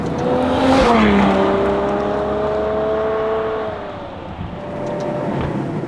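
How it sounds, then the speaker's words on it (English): A Ferrari 812 Superfast with a V12 engine accelerates hard, its rising engine note climbing and shifting as it pulls away, loud and close with some tire noise, then easing off before building again. "It's a Ferrari V12."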